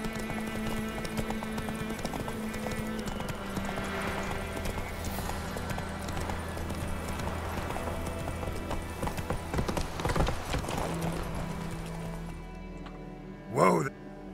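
Roach, a horse in The Witcher 3 game, galloping with a continuous clip-clop of hooves over a busy game soundscape, ending in a brief sharp burst near the end.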